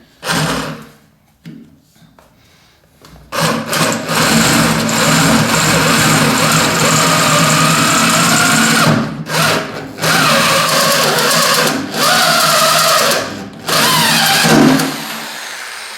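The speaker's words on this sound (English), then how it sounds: "it's back to the old 240 volt pistol grip drill to come to the rescue" A corded 240-volt pistol grip drill with a hole saw whines steadily under heavy load, grinding through material in long runs with brief pauses and restarts.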